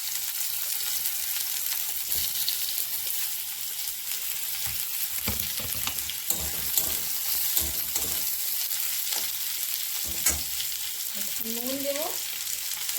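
Chopped onion, dried red chilli and radhuni spice sizzle and crackle in hot oil in a pan, a dense continuous frying hiss close up, broken by stirring scrapes and knocks and a short squeak near the end.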